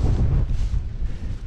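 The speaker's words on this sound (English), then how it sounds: "Pardon the wind." Heavy wind buffeting a microphone outdoors at a one-acre pond, a loud continuous low rumble with gusty surges throughout and no other clear sounds.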